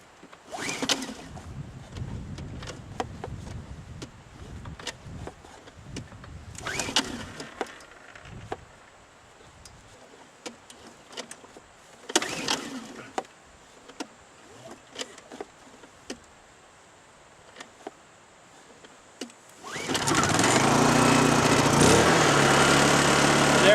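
A Honda 2000i portable generator with its choke on is pulled several times, each pull a brief rattle among quiet handling clicks, then catches near the end and settles into a loud, steady running hum.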